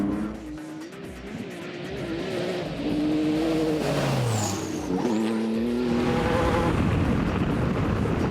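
Off-road buggy engine revving hard as it is driven aggressively over rough ground, a loud sustained roar with rising and falling pitch sweeps and brief tyre scrabble, close and continuous throughout.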